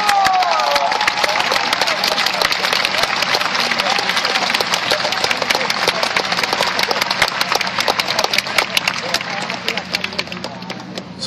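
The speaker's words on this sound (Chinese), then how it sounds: "请大家给自己一个热情的掌声" A large crowd at a student movement rally in Taiwan claps in a dense, continuous roar of hand strikes that lasts throughout, loud and close, with voices mixed in.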